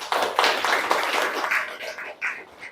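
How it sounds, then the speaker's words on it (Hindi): An audience at a spoken gathering breaks into a steady, fairly close round of applause, with many hands clapping in a dense patter that lasts the whole stretch and swells briefly near the end. "ताली तो बजाओ"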